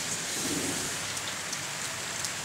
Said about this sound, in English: today is a really rainy day